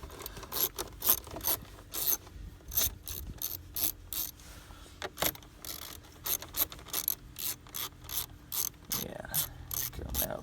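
A ratchet with an extension and socket loosens the 8mm intake bolts on a Ford ST engine, giving rapid clicking bursts of pawl ratcheting in repeated strokes, close and loud, with brief pauses between runs.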